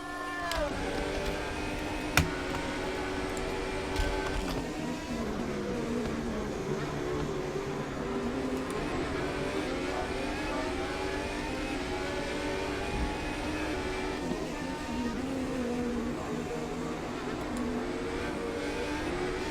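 A race car on an Austrian Grand Prix track, apparently with a mechanical problem, drones steadily as its engine pitch sweeps up and down through gear changes, continuous and moderately loud.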